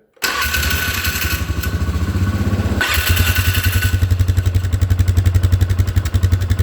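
A 2010 Polaris Sportsman 500 HO ATV that has sat unused for a while cranks and catches, then settles into a steady, loud, close idle with a rapid even putter and some mechanical clatter.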